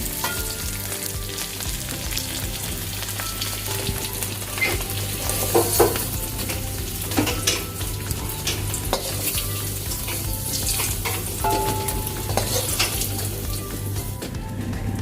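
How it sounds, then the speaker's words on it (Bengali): Dried red chillies tempering in hot oil in a wok, with white cumin following, crackle in a steady dense sizzle lasting throughout, with a few sharper pops standing out; no voices. "তাহলে এখন কড়াইয়ের মধ্যে আমি শুকনো লঙ্কা ফোড়ন দিলাম"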